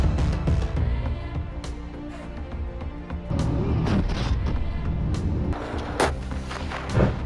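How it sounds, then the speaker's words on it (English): A Ukrainian T-64 tank fires on Russian tanks a few meters away among buildings, heard as repeated sharp booms and thuds over a continuous rumbling background, with several loud impacts spread across the stretch. "The T-64 tanks moves between the buildings to fire at Russian tanks just a few meters away"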